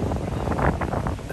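A breeze blows at the beach near Santa Barbara Pier, buffeting the microphone with a steady, fairly loud rumbling wind noise and no voices.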